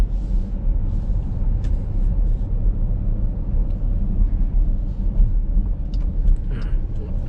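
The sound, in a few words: 2018 Dodge Durango R/T V8 engine driving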